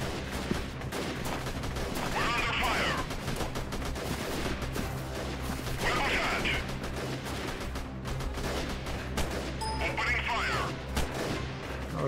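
Machine gun fire in the shooter Freeman: Guerrilla Warfare rattles in continuous rapid bursts, thick with battlefield booms, and a person talks over the relentless gunfire.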